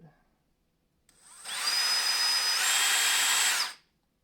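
A drill bores tuner holes in a Super Strat guitar neck, revving up into a steady high whine, holding for about two seconds with a pitch step, then winding down, close and alone.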